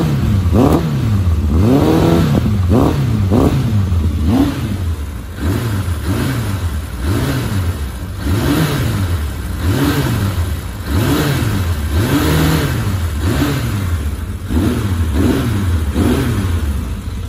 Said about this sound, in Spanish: El sonido es muy bueno, el de motor, y el escape también suena bastante bien.